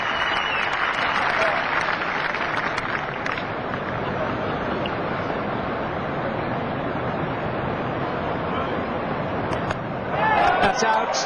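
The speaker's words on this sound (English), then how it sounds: "what an over it was, and the crowd applauded" Test match crowd at a 1992 Pakistan versus England cricket game applauds in a broad, distant wash of clapping that holds steady, then swells briefly near the end, with faint commentary voices underneath.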